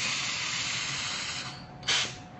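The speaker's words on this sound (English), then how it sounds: "Now with this size siphon, you usually want to vent before you charge a second time." A gas-charged coffee siphon brewer is vented under a rag, giving a loud, steady hiss of escaping gas that fades, then a brief sharp burst of spray near the end.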